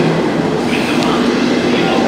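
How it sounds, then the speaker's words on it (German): An ICE 1 high-speed train, class 401, pulls into a German main station with a loud, steady rumble and faint rail noise throughout, with no pauses. "da kommt halt unser Zug"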